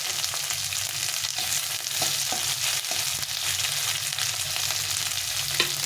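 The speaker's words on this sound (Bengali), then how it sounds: "খুব ভালো করে ভেজে নিতে হবে আদাটা" Chopped ginger sizzles in hot oil in a pan for a spinach curry, a steady close crackle with occasional stirring scrapes and no talk.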